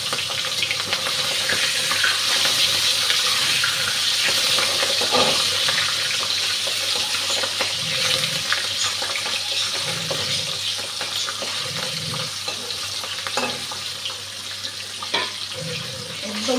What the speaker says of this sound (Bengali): তেলটা গরম হয়ে গেছে, মাছটা ভাজতে দিয়ে দিচ্ছি।